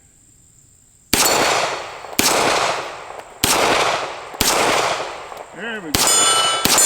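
A Beretta 92S pistol fires six sharp, loud shots at a few regular intervals outdoors, each with a ringing clang from a steel target. Someone speaks briefly near the end.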